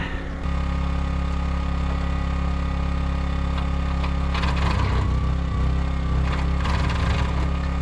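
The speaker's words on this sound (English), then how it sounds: "the tractor needs another probably 20 minutes to warm up" A tractor engine idles in extreme cold while warming up during a blizzard at an off-grid cabin, a loud steady low drone throughout with brief rougher clattering bursts partway through, and no talking.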